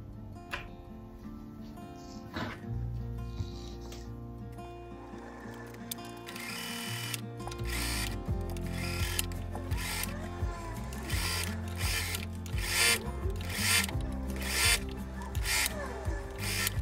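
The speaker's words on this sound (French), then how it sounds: "Je vais faire une piqûre tout autour à 2 mm du bord." A sewing machine runs a line of stitching around the edge of a summer dress, 2 mm in from the hem. It starts quietly, then hums steadily with a fast mechanical chatter that builds and carries on to the end, with no voices.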